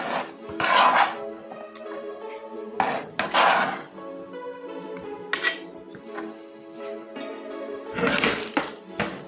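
A knife cuts tomatoes into small pieces in a series of scraping, clacking strokes against a hard surface, some louder bursts among softer ones, over a steady tonal background.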